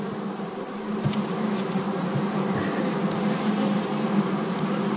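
Honey bees in a packaged-bee apiary hive being readied for winter make a steady, dense buzz close by, continuous throughout with no talking.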